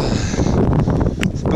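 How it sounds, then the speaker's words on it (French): Gusting wind buffeting the microphone on an exposed mountain trail during an uphill climb in rain, loud rough rumbling that swells and dips over a brief moment. "on est exposé au vent et à la pluie"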